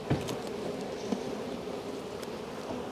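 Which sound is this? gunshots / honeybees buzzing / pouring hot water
honeybees buzzing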